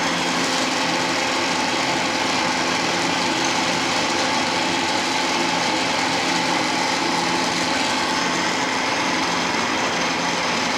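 A metal lathe runs steadily while it takes 1 millimeter cutting passes, giving a constant, fairly loud mechanical whir with no pauses or speech.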